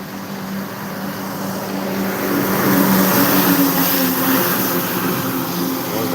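Cars speeding and overtaking one another on a smooth road near Sawarde in Konkan, heard as a steady broadband traffic roar with a low engine hum that swells slightly mid-clip, with no talking.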